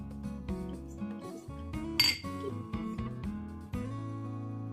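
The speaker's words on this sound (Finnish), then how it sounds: "Annetaan vielä kippis kaikille." Drinking glasses clink together in a toast between people at home, one bright, sharp chime near the middle, heard close against a background of humming tones.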